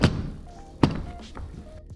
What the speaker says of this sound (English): The case is held shut with these 2 lashes that make a very satisfying sound when you open and close